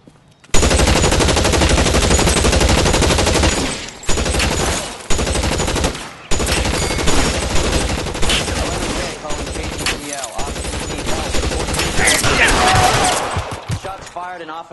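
Heavy automatic gunfire from a police shootout in LA Noire, loud rapid bursts running almost continuously with a few short pauses between volleys, ending in trailing echoes.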